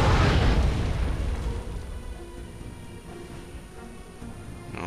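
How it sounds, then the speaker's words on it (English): Artillery explosion in the video game Wargame European Escalation, a heavy booming blast at the start that rumbles and slowly fades into a low lingering roar, with no talking. "Right here's some artillery."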